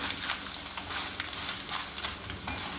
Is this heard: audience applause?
no